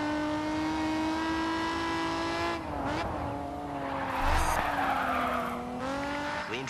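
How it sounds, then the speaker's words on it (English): A race car drifts in the Grid 2 video game, its engine holding a steady revving drone while tires skid and squeal through the slide, the pitch dipping and surging as the car swings, loud and close with no talk. "See if we can get some drifts down here."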